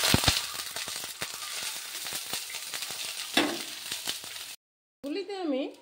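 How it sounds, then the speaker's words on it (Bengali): Boiled eggs frying in hot oil in a wok, a steady crackling sizzle with scattered pops and stirring clatter for several seconds, briefly cut to silence before a voice speaks over continued frying. "গরম হয়ে গেল, আমি ডিমগুলি ভাজতে দিয়ে দিচ্ছি"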